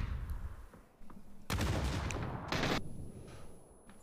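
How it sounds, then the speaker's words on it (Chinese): Gunfire in a PUBG esports match at PGC 2022: sharp bursts of shots crackle loudly mid-clip over a low rumbling game backdrop, with quieter scattered reports before and after. "而且听到枪声"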